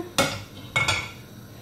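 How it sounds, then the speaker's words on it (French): A plate is picked up in a kitchen while making chocolate crepes, giving two sharp ceramic clinks close by, one early and a quick double knock a moment later, with near silence around them. "Je prends une assiette pour déposer ma crêpe."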